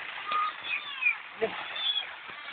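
Several thin, high meows from a cat, rising and falling, heard over a steady hiss, with voices talking in the background.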